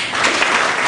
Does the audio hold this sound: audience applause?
yes